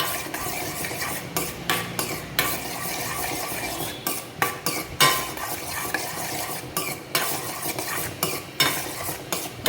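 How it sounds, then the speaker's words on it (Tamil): Raisins frying in a pan, a soft steady sizzle broken by repeated scrapes and clinks of a spoon stirring against the metal, close and fairly quiet, with no voices. "அப்புறம் இது நல்லா வந்து பொரிச்சு எடுத்துக்கிறேன் நான்."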